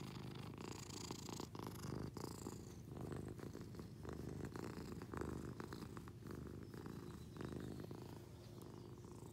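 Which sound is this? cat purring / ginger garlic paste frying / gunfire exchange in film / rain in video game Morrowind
cat purring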